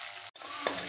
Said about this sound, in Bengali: মশলাগুলো একটু ভাজা ভাজা হতে দিলাম।